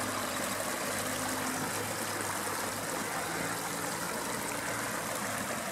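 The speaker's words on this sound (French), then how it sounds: "ça passe entre le trottoir, là vous voyez, entre le goudron, et ça coule jusqu'en bas dans la rue du Perche" Water from a very large leak in Nogent-le-Rotrou runs between the kerb and the asphalt and flows down a sloping street, a steady, loud, broadband rushing that continues evenly throughout.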